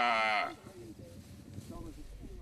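A single loud, close moo opens the sound, from one of some 5,000 cattle grazing on a farm paddock at Koitaki, and fades into quieter low rumbling background noise with faint voices.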